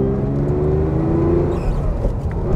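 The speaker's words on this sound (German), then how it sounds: "Motor hört sich gut an." A 1966 Porsche 911 SWB in original condition drives along, its engine running steadily with a low droning tone and a rising whine, close and continuous with no talking.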